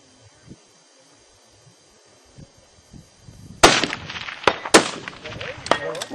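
A rifle shot fired at a silhouette chicken target 200 meters away, a sharp loud crack followed by further sharp impacts and clatter, after a quiet stretch with faint background sounds.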